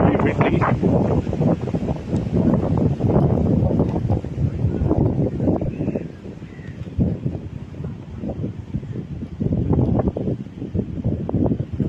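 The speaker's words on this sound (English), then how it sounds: "It's really windy." Strong wind rumbles and buffets across the microphone at an outdoor cricket ground during a live match. The gusting noise is loud and continuous, and a commentator speaks over it throughout.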